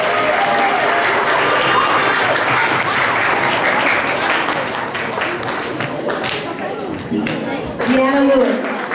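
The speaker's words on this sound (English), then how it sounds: "let's give Deanna Lewis, also our keynote speaker for today, a round of applause" A school crowd at a middle school leadership ceremony in Bakersfield applauds the keynote speaker, sustained dense clapping throughout, with voices and cheers rising toward the end.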